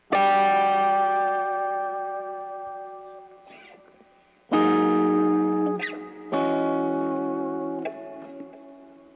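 Electric guitar chords played through heavy delay and reverb, three struck chords ringing long and fading slowly, with echoing repeats and faint scratchy string noise between them.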